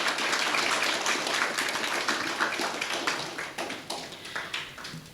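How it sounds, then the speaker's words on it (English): Audience at a Duke of Edinburgh's International Awards ceremony in Fiji giving a round of applause for award recipients, a dense burst of clapping that is loud at first and then thins into scattered, fading claps. "can we give a round of applause again to our recipients this morning?"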